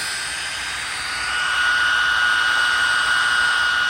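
Imalent MS18 flashlight's built-in cooling fans running hard at high light output, a steady loud whirring hiss with a faint high whine, swelling slightly louder partway through and holding constant, with no talking.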